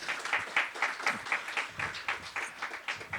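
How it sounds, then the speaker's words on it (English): A crowd applauds steadily, many hands clapping in a dense, even patter at moderate volume with no voices on top. "Round of applause for Artur."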